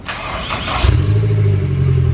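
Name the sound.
car engine starting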